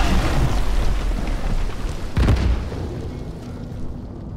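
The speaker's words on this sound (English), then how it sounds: "Didn't even intend to cause that explosion." A spell explosion in the video game Divinity Original Sin 2 sounds as a roaring, rumbling wash with a sharp burst partway through, then fades into a lower, crackling tail.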